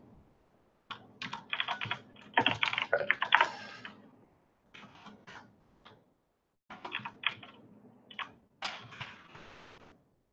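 Rapid typing on a computer keyboard while writing CSS code, clicking along in several bursts separated by short pauses, close and clear with no one speaking.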